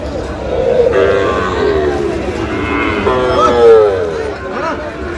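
Several drawn-out moos from young Sahiwal bull calves at a Noakhali cattle market, calls overlapping one after another at close range over a background of crowd murmur.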